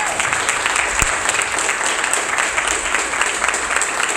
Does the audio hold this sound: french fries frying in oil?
no